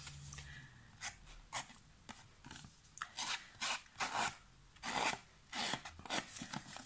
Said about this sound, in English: So I'm just running my scissors along them.